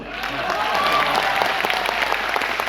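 Loud, sustained applause from a crowd in a railway auditorium during a speech, dense clapping rising quickly and holding steady throughout.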